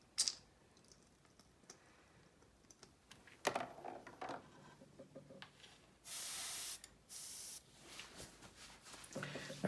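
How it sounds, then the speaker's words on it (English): An airbrush hisses red paint onto a 1/32 scale Zoukei-Mura Horten Ho 229 model kit in two short steady bursts, with quiet clicks and handling noises around them. "I'm not used to this airbrush"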